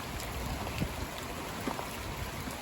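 Heavy rain lashed by gusting northwest winds of about 60 km/h during a stormy late-February spell, a steady dense wash of noise with faint irregular splashes throughout, no voices.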